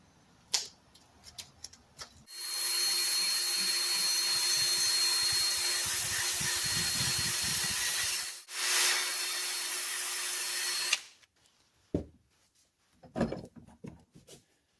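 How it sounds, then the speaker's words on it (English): Sandpaper scrapes hard and continuously across a pitted metal putty knife, a loud close rasp lasting several seconds, breaking off briefly, resuming, then giving way to a few light clicks and taps. "So the trick is to sand this down enough to get rid of as much of the pitting and imperfections as we can"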